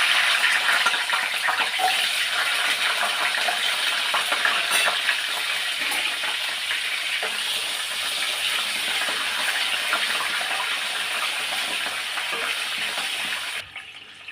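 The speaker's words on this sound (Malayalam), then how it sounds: "അതേ എണ്ണയിൽ തന്നെ നമുക്ക് ചെറിയ ഉള്ളിയില്ലേ അത് ഒന്ന് പൊള്ളിച്ചെടുക്കാം" Shallots frying in oil in a pan for papad chutney, a steady dense sizzle that runs without a break for about thirteen seconds, close and fairly loud, then cuts off suddenly near the end.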